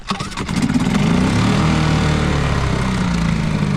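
A boat's outboard engine starting: a short cranking stutter that catches and settles into a loud, steady, close-up rumbling idle.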